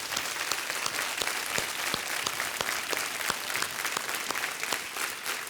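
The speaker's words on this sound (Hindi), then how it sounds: "जोरदार तालियों के साथ उनका स्वागत किया जाए।" A studio audience on the Kaun Banega Crorepati game show applauds loudly and continuously to welcome ten new contestants, with a few sharper individual claps standing out from the steady wash.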